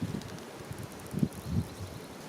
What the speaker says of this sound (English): So, whoa, windy.